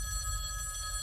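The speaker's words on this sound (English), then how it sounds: "that phone over there is gonna ring" A telephone rings steadily with a bright electronic bell tone, faint and alone over a low background hum.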